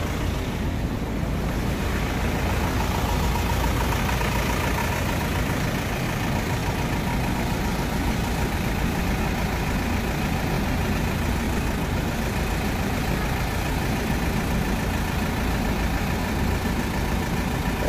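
A Mediterranean Gyro Products food truck idles on a New York City street corner, a steady low engine rumble with constant broadband hum running unbroken throughout, no talk.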